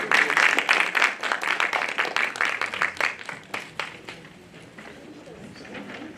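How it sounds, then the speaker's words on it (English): Audience applause for a film panel at an evening festival event, dense clapping from a crowd that gradually thins and fades toward the end. "everyone, we can clap louder for our panel"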